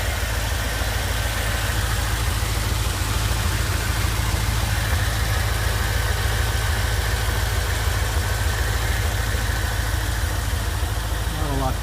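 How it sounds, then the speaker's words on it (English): 1991 Chevrolet Corvette C4 V8 idling with the hood closed, a steady low, even rumble close by that holds unchanged throughout. "So that's the Corvette with the engine running and the hood closed."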